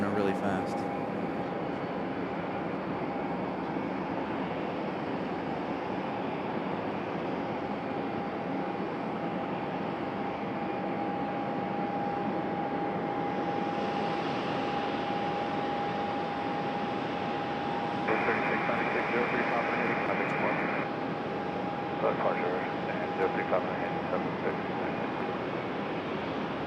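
A Pike the Otter aircraft pushing back at Raleigh Durham airport, a steady distant engine drone and broadband rumble with a sustained tone, long and even, with a few brief louder bursts later on.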